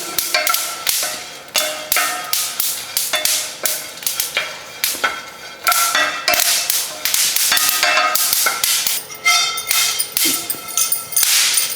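Nuts dry roasting in a pan in a home kitchen, popping and crackling in a dense, steady stream of sharp snaps close to the microphone, with no talk over them.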